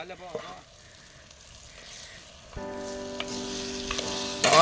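Chilli, coriander and turmeric powders sizzle and fry in hot oil in a pan for a Nellore Gongura chicken curry, a continuous close crackle with stirring, while a person talks.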